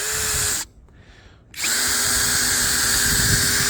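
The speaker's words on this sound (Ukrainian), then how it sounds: "Пробуємо крутити. Так, у Джека саме крутити не будемо, будемо крутити в пенька." A 12-volt cordless screwdriver drives a 160 mm screw into a wooden stump, its motor whirring loud and steady, cutting out briefly for about a second before resuming a continuous drone to the end.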